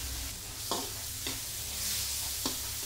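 Tomatoes sautéing for pork rib sinigang, a soft sizzle broken by three distinct spoon scrapes and stirs against the pan.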